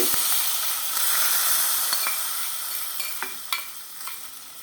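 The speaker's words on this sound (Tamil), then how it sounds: "கொஞ்சம் பொரிச்சும் போட்டால் வாசனையாக இருக்கும் இதை நல்லா கிளறிவிட்டு" Asafoetida tempering frying and being stirred in a pan for a buttermilk curd kuzhambu, giving a steady close sizzle with scattered clicks and scrapes of the spoon, no talk.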